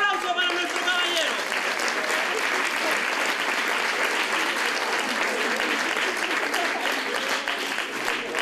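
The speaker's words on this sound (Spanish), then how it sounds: "que ¡fuerte el aplauso para nuestro caballero!" Theatre audience applauding a volunteer at a village stage show, dense sustained clapping filling the whole stretch, loud and steady with a bit of crowd noise.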